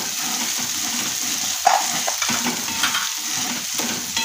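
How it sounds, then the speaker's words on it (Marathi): Masala fries in oil for dhaba-style chana masala, giving a continuous close hiss and sizzle with faint intermittent stirring scrapes. "मसाला आपला हा व्यवस्थित तळला गेलेला आहे"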